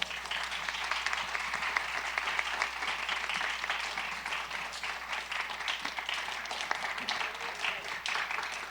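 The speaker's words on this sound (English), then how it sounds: "Round of applause, please." An audience claps after an artists panel discussion, a fairly quiet, even spread of applause lasting the whole stretch without clear peaks, heard from a distance in the hall.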